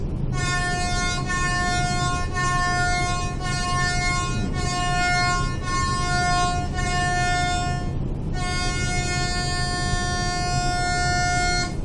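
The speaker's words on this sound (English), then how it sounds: "You simply get 7 or more short blasts and 1 long blast on the ship whistle," Seven short ship whistle blasts in quick succession, followed by one long sustained blast, sounding the general emergency alarm, all over a steady low rumble.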